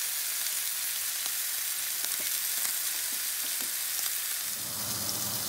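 Eye round steak sears in a very hot cast iron pan with a loud, steady crackling sizzle, close and unbroken, with no talk.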